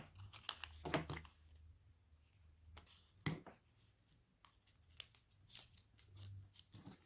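Scissors snip through ribbon offcuts while a gift bow is being made, giving a few sharp, quiet cuts and light rustles spaced apart at close range over a soft room background.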